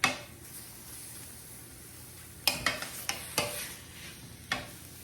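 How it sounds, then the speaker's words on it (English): Beef sizzles steadily in an 11-inch Saladmaster stainless skillet while a utensil scrapes and clacks against the pan in several quick sharp strokes, close and clear with no talking. "while that beef is frying on the side"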